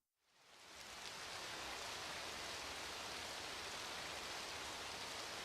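Rain swells in within the first second, then pours steadily over the desert city of Monsbaiya in Azure Dreams, a dense, even hiss that holds without a break.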